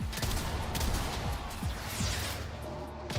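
A weapon in the game Warframe fires a rapid string of shots. The sharp, close reports overlap in a dense volley over the game's ambient noise.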